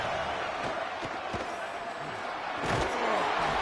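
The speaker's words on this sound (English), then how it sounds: "This dog crowd is off the leash, and they are coming after them, bringing noise on 3rd down." A dense stadium crowd roars steadily in a college football video game matchup of Clemson at Georgia during a third-down play, a broad wash of noise that swells slightly louder near the end.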